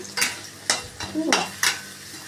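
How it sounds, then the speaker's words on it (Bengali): Bori lentil dumplings frying in a pan for a mixed vegetable dish, a steady close sizzle broken by four sharp scraping stirs of a utensil against the pan. "বড়ি একটু ভাজছি, বড়ি ভেজে একটু উঠিয়ে রাখবো"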